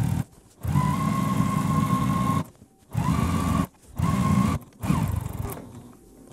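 A domestic sewing machine stitches and backstitches quilted pillow fabric in loud motor bursts of a second or two, broken by short pauses and a brief whine as the stitching reverses.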